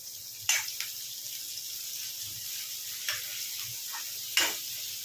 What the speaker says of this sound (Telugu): ఒక 1 మినిట్ ఫ్రై చేయండి ఆయిల్లో ఆలుగడ్డ పీసులు అయితే